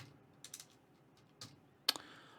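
Wordle guesses being typed on a computer keyboard: a few sparse clusters of light key clicks, quiet and close, ending with one sharper tap, with no talking.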